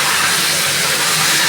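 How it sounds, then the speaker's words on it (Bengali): Potato pieces frying with pointed gourd in a pan, a loud steady broadband sizzle and hiss that stays close and continuous throughout. "আমি আলুটাও ভেজে নেবো আর একটু এর মধ্যে একসাথে।"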